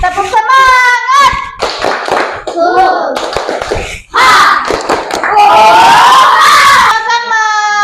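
A classroom of pupils performs a rhythmic spirit clap, loud and close, with bursts of patterned hand claps mixed with children chanting and shouting along.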